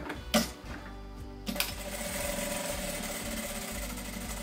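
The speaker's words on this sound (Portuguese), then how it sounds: "agora nós vamos fazer uma costurinha de segurança a toda volta para poder prender esse" A domestic sewing machine running steadily, stitching a narrow safety seam around the edge of fabric for an oral hygiene kit, with a few clicks at the start before a continuous close mechanical whirr; no talk.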